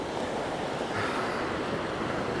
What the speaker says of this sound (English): now I have the wind blowing at my back, which is nice